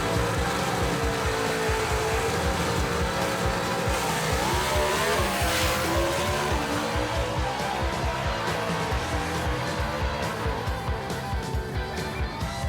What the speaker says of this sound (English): Daniel Haynes in that Falcon right there, the Patriot, going to make a run right here for a lapse time